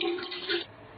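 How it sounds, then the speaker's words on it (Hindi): Water splashes and gushes into a cooking pot, three litres poured for chicken haleem, a brief close hiss-like rush that cuts off abruptly. "एक डेचकी लेंगे, उसमें 3 लीटर पानी डालेंगे।"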